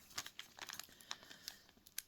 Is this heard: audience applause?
no